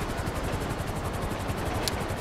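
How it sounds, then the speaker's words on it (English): Helicopter rotor from a black helicopter in the GTA V video game, a steady fast chopping thrum with broadband rushing noise, continuous and fairly loud throughout with no talk. "We had a black helicopter this time"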